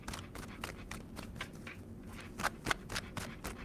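Tarot cards being shuffled in quick riffling bursts, a steady run of soft flicks and snaps, close up and fairly quiet, with no voices.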